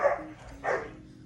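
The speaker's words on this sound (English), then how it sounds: "And my dog's all excited." An excited dog gives two short, close barks, a loud one and then a second after a brief pause, heard alone in a home kitchen.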